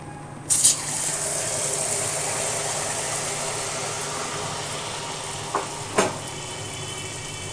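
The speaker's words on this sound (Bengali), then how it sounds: "কড়াইতে তেল দিয়ে দিয়েছি, তেলটা গরমও হয়ে গেছে কড়াইতে। এবার মালপোয়াটা আস্তে আস্তে ছেড়ে দেবো।" Malpua batter meets hot oil in a wok with a sudden hiss, then settles into a continuous, fairly loud frying sizzle. A few brief clatters follow near the end.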